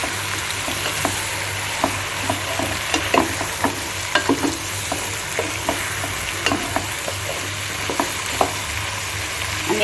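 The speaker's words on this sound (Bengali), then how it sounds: "লাউ দিয়ে ভালো করে নাড়াচাড়া করে নিচ্ছি।" Bottle gourd pieces being stirred in a hot pan for a prawn curry, a steady loud sizzle running throughout with repeated scraping and clacking strokes of the spatula, close up and without speech.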